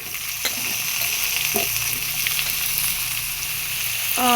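Loud, steady sizzling of potatoes and eggplant frying in hot oil, with occasional scrapes and knocks of a utensil against the pan.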